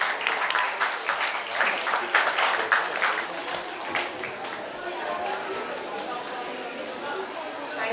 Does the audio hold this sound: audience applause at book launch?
yes